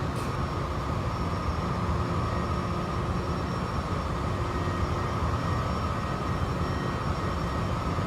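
Helicopter engine in the X-Plane VR flight simulator game: a constant, dense whine and rumble that fills the whole stretch at an even, fairly loud level, with no talking.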